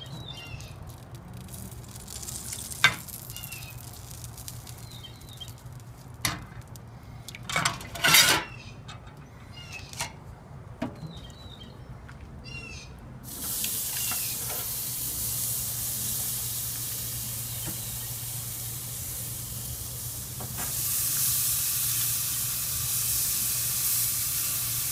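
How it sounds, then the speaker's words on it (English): Fajitas sizzling on a backyard barbecue grill: quiet scattered clinks of utensils and pans first, then a steady loud hiss of food hitting the hot grate that swells again near the end. "About to hear some sizzles."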